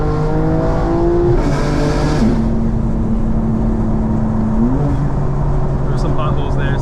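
A 2024 BMW M4 drives through a tunnel, its engine droning steadily with rising and falling revs that echo off the walls, loud and continuous over the road noise throughout.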